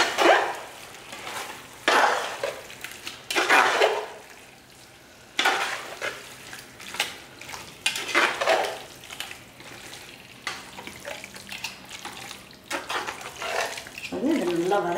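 Mutton sautéing in a pot for seeraga samba biryani, loud bursts of sizzling and frying with stirring scrapes, coming and going in waves with brief quieter gaps.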